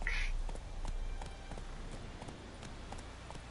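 Roach, a horse in The Witcher 3 game, clip-clops along in a steady hoofbeat rhythm at moderate volume, with a brief brighter burst near the start and game ambience underneath.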